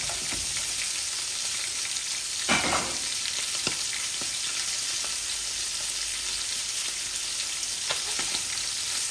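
Chitol fish heads sizzle and fry in a pan with bean seeds, a continuous loud hiss with a burst of stirring and scraping around the third second and occasional clinks, no voices.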